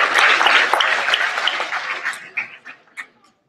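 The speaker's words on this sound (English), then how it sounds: "Please give him a round of applause." Audience applause at a lecture on selfishness and prosperity: a dense burst of clapping from a seated crowd that thins out and tapers into a few scattered claps before silence.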